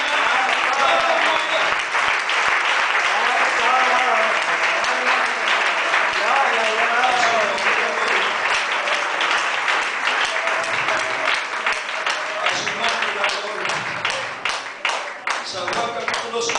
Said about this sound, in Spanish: ese aplauso fuerte del Señor en esta mañana